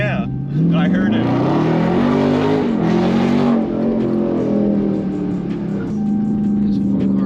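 A Dodge Charger Scat Pack 392 being driven hard, its engine droning loud and close with a pitch that climbs and settles as it pulls, while voices talk over it throughout.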